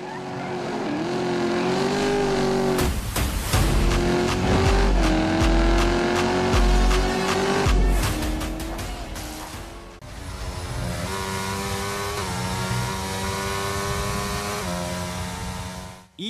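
Cars in a racing video game rev and accelerate hard, loud high-pitched engine whines climbing and shifting repeatedly, with tyre squeals and abrupt cuts between scenes throughout.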